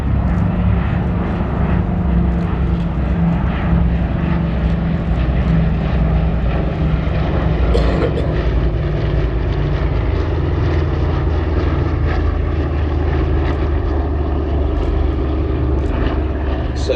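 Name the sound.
B-17 Sally B vintage aircraft flying display at airshow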